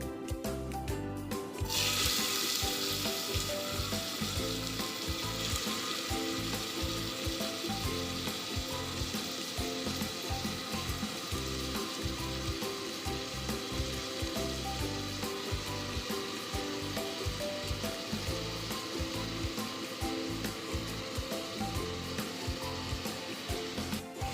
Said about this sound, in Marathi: हे 3 कांदे मी आता याच्यामध्ये घातलेले आहेत. हे आता व्यवस्थित भाजून घेऊयात